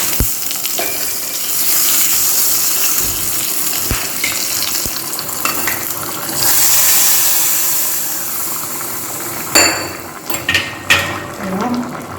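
Mustard seeds, asafoetida, two dried red chillies and curry leaves sizzle and crackle in hot oil in a pan, a steady close frying hiss with scattered pops and a few sharp spatters near the end.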